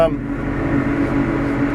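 A steady air-conditioning fan hum with a low drone fills the cab of a CLAAS Arion 470 tractor, constant and close, with no talking.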